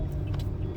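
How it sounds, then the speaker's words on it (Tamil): Road traffic at the Porur toll gate, with a low rumbling car engine close by, steady and continuous through the brief moment. "இங்கே டிராஃபிக் ஸ்டார்ட் ஆகிடுச்சு."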